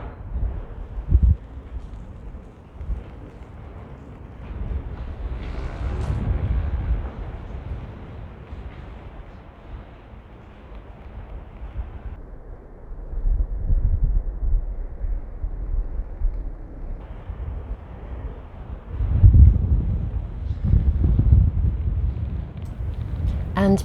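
Gusts of wind inside a tower at Glastonbury buffet the microphone in low rumbling surges, swelling and fading over time, loudest in a heavy burst near the end.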